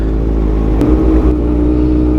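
Road traffic in Dagupan with cars and motorcycles, a steady loud low engine rumble and hum throughout, close by, with a brief revving swell midway.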